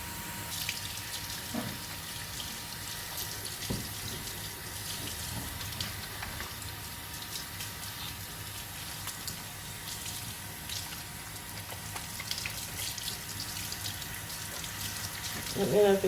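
Tap water runs steadily into a bathroom sink while a man's long hair is washed at the scalp, a soft continuous hiss with occasional drips and splashes, close by and fairly quiet throughout.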